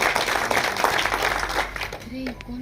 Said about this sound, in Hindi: थोड़ी दमदार तालियां बजा दें